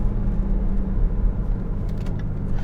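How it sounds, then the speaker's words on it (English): A 2015 Range Rover with a 3-liter supercharged V6 and 100K miles cruises along, its low, smooth engine and road rumble droning steadily from inside the cabin. "This is, in fact, the 3-liter supercharged V6, of course, producing 340 horsepower"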